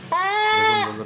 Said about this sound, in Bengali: ছাগলটা প্রচন্ড কষ্ট পাচ্ছে।